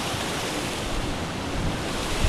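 Clear stream water cascading down a stone channel along a wooded state park trail, a steady, dense rush of splashing flow close by, continuous and unbroken with no voices.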